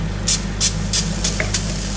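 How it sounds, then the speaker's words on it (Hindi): Oil spray is misted over hot charcoal set in the middle of a kebab karahi, heard as five short, evenly spaced hissing bursts over a steady low hum. "और इसके ऊपर आप डालेंगे थोड़ा सा ऑयल का स्प्रे"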